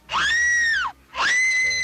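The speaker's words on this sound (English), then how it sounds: "And the woman screams." A woman screams in a movie scene: two loud, sustained high-pitched shrieks, each close to a second long, separated by a short pause.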